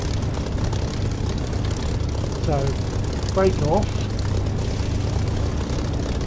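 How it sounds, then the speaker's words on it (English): A propeller aircraft engine in the DCS flight simulator runs up toward about 1500 rpm for taxiing. Its steady low drone continues throughout, with a brief tonal whine in the middle. Someone talks briefly over it. "I'm going to throttle up and taxi at about 1500 revs."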